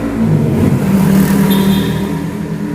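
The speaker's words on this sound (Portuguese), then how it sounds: "Se vocês ouvirem barulho de carro, moto passando, é porque o local que eu estou gravando aqui tem uma janela bem grande aqui" A car passes outside a large window and makes a steady, loud road rumble that lasts throughout.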